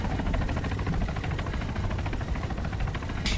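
Helicopter rotor and engine drone from the Arma 3 Altis Life game, a steady loud whir with rhythmic blade chop running the full length, no talk.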